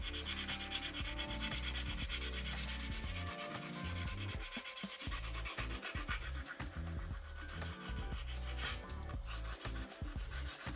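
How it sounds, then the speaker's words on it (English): A metal or 100-grit file rasps across the smile line of an acrylic gel nail in fast, continuous back-and-forth strokes, close and steady throughout. "I'm just going to file the smile line. You can use a metal file or you can use a 100 grit normal file."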